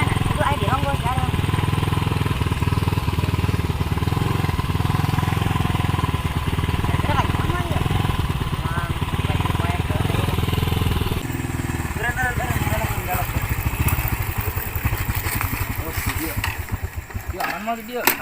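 A motorcycle engine runs steadily and loud in a comedic Sundanese short film scene, a continuous mid-pitched drone with voices talking over it throughout.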